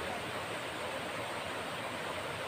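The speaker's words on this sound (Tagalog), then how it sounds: "Napakasarap na pakinggan yung natural na agos ng tubig dito." Steady broadband rush of naturally flowing water at a cool-climate resort in Panicuason, Naga City, continuous and even throughout with no voices, like a nearby stream or small waterfall.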